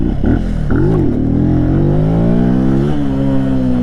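A nearby Benelli TNT 135 small motorcycle engine revs up, its pitch rising and holding at a loud, steady drone with a brief dip and recovery.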